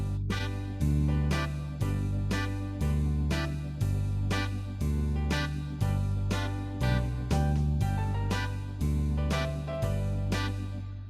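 Piano voice on an arranger keyboard with the choir layer switched off, playing a steady run of chords with rhythmic bass notes, about one chord every second, loud and close, with no talking.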